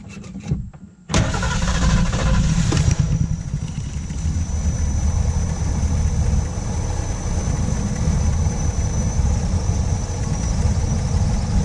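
A custom 1979 Ford Pathfinder Quadravan 4x4 engine cranks briefly, catches and roars to life, then settles into a steady rumbling idle, close and loud.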